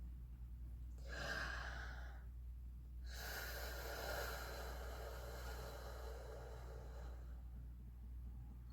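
Slow, deep breathing exercise: a short breathy inhale, a pause, then a long, drawn-out exhale of airy breath, heard close and quiet without speech.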